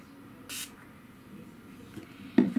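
Two short, soft spritzes of a setting spray bottle onto a face, the first crisp and airy, the second quieter and followed by a light rustle.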